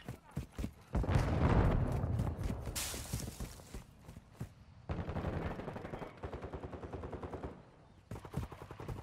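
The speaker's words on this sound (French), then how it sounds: "Des tirs ennemis!" Enemy gunfire in a Call of Duty match, with dense bursts of rapid shots clustered early, then sparser sharp cracks and rattling volleys continuing throughout, fairly loud and close.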